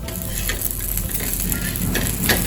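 A rava and moong dal breakfast cake roasts in an oiled pan with a steady low sizzle, and faint scrapes from stirring or turning come through now and then.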